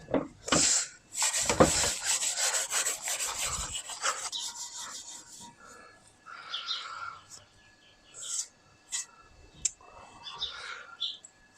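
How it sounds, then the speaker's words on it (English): Steel wool scrubbing a heavily corroded chrome bumper on a classic Toyota TA22 Celica, heard as close, loud rasping rubs in the first few seconds, then quieter scattered scrapes and short scuffs. "Steel wool's definitely the way to go to clean up chrome."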